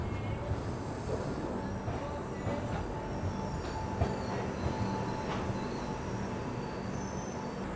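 The Bangalore Rajdhani Express rumbles along with a steady roar of wheels on rails, occasional faint clicks and squeals rising from the continuous low noise, heard from inside the carriage.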